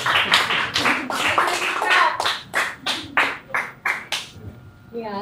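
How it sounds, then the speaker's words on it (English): Audience at a startup tech meetup claps in scattered rhythmic bursts, a few distinct hand claps repeating close by and fading toward the end, with voices mixed in. "Give yourselves a big round of applause."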